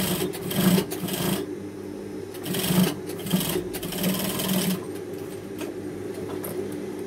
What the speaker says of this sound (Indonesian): Kemudian kita jahit tindas lagi bagian ujungnya.